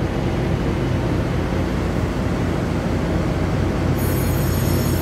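An EMU3000 electric multiple unit train passing at close range, producing a loud continuous rumble and wheel roar across the whole stretch, with a faint high whine appearing near the end.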